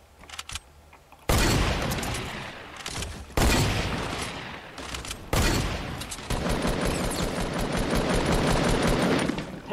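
Dense bursts of automatic gunfire in Fortnite Battle Royale, loud and near, in long rapid fusillades split by short gaps and running almost without pause.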